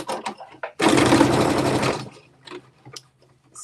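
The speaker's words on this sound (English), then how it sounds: "I'll do this stitch in the ditch so I can show y'all." A home sewing machine edge stitching in the ditch on a garment makes a single close, fast whirring run of about a second, framed by small clicks and fabric handling.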